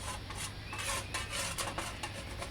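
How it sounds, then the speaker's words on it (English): Toast being scraped on a pizza tray to remove the excess makes a quiet, close, rasping scrape with repeated rubbing strokes, and no speech. "I'm just scraping off the excess"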